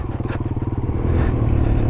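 Small dirt bike engine idling nearby with a steady pulsing putter, the beat growing slightly rougher and denser after the first second.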